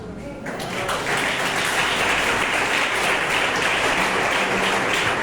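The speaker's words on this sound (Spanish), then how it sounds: "Gracias por su aplauso." Applause from a church congregation, loud and sustained after a quiet start, with voices mixed in over the clapping.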